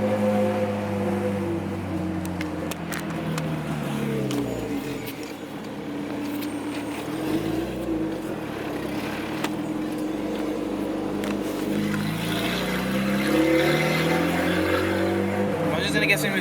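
A car engine held at around 3,000 to 4,000 RPM, sputtering a little, drones with a wavering, uneven pitch while a person talks over it.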